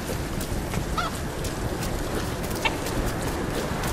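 Chickens in the Tomb Raider video game cluck and squawk in a few brief calls over a steady broadband ambient background, with no talking.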